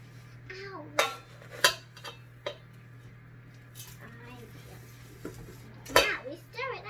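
A child and an adult stir suet and grains in a container to make bird feed, with clinks and scrapes of a spoon and dish scattered among their chatter, close and fairly quiet.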